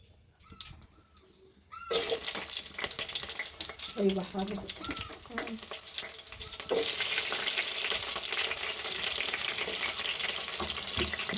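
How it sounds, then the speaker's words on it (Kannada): Bajji fritters frying in hot oil with mustard seeds, giving a loud, steady sizzle that starts suddenly and grows stronger midway, close by, with voices talking and faint bird calls beneath it. "ಇವತ್ತು ಬಜ್ಜಿ ಹಾಕಿರೋದು"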